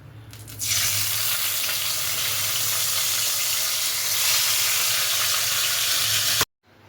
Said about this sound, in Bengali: তেল গরম হয়ে গেছে এবার এর মধ্যে আমি মাছগুলো দিয়ে দেবো